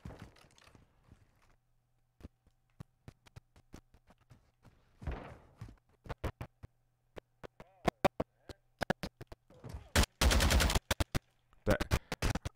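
Sharp, loud gunshots in Modern Warfare 2 at a shooting range, single cracks and quick runs of rapid fire separated by short quiet gaps, with a loud dense burst near the end.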